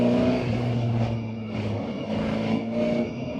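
Voge RR 500 S motorcycle in third gear as the throttle is rolled off and on several times, the engine note rising and dipping in a repeated swell, with a steady tone underneath, heard up close from on board.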